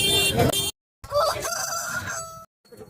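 A rooster crows loudly in a couple of bursts separated by brief silences at a livestock market, with some background noise around it.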